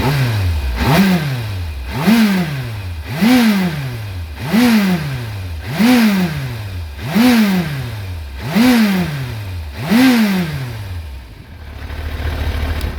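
A 1998 Yamaha YZF 1000 Thunderace motorcycle engine revs repeatedly, about nine quick throttle blips rising and falling in a steady rhythm, close and fairly loud, then settles to idle.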